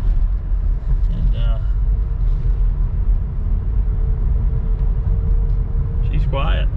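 A 2011 Chevrolet Impala drives around a small town, its steady low road rumble and engine drone continuous and close throughout, with brief squeaky sounds near the start and end.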